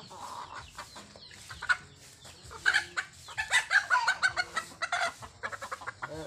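A backyard hen clucks in a run of quick, close, moderately loud calls that grow busier midway, with short pauses between bursts and a quiet outdoor background.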